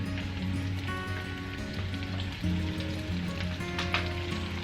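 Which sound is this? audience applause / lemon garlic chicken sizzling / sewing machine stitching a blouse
lemon garlic chicken sizzling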